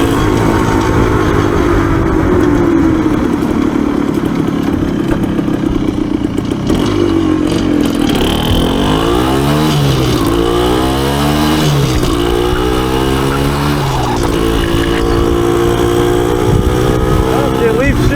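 A Yamaha MT250 motorcycle, just back from an engine overhaul and running rich in the upper revs, revs up and down repeatedly with rising and falling engine pitch and gear changes, loud and close throughout.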